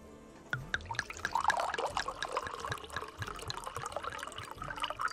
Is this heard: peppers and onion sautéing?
no